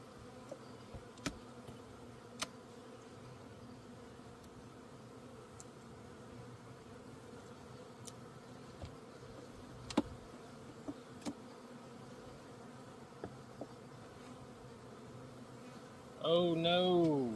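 Honeybees buzz steadily through a hive inspection, a soft continuous hum with occasional faint knocks and clicks, swelling to a louder, closer burst near the end.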